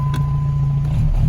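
A 1988 Yugo with a manual clutch, cold after sitting, cranks and catches, settling into a steady low engine drone that runs loud and close throughout with no speech.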